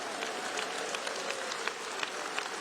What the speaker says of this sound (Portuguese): Desocupem as mãos, batam palmas, glorifiquem ao Senhor